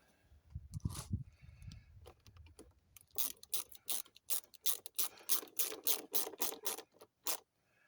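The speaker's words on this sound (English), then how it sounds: "Then we'll switch back to our 6mm. Tighten up the Jubilee clip." A 6mm ratchet clicks steadily while tightening a Jubilee hose clip on a Jaguar XK8/XKR (X100) intake, a run of close, crisp ratcheting clicks following a few softer handling knocks.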